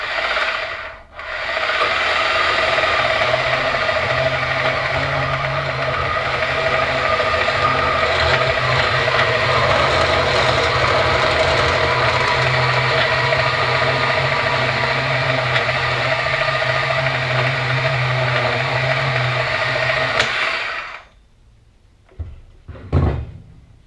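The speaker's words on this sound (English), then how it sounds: "when you're cutting, you want to rest it against the bandsaw and let the bandsaw do the work" A Bauer 10 amp band saw runs through a cut with a loud, even whine and rasp for about twenty seconds, then winds down and stops, followed by a couple of brief clunks.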